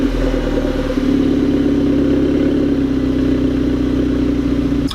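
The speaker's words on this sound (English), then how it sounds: "the exhaust on this car is also APR, and you can hear it in the background right now" A steady, low engine idle from an APR-tuned Volkswagen GTI with an APR exhaust rumbles continuously with a deep, even tone, close by and unchanging throughout.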